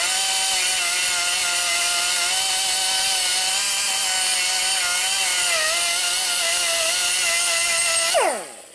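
High-speed grinder porting the valve bowl of a 1974 Harley shovelhead cylinder head, a close, steady whining drone with slight pitch wavers as the tool works the metal, spinning down sharply at the end.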